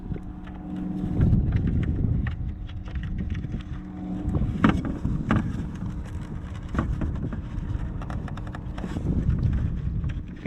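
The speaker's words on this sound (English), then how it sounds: "Oh, it's very windy." Strong outdoor wind buffets the microphone in rough, continuous low rumbling gusts that swell and ease across the clip, with a few sharper knocks mixed in.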